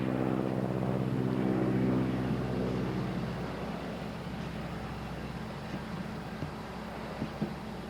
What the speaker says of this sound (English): He'll be waving that flag as the crop duster goes overhead